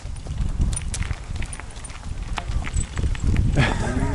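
A group of cows, just dropped off, walking on a mountain road during a vintage klunker bike ride on Old Grand Mesa, irregular hoof clops and shuffling close by, with some rustle and a brief louder patch near the end.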